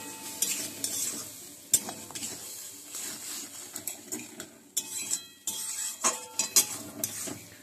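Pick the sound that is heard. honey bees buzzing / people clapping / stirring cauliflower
stirring cauliflower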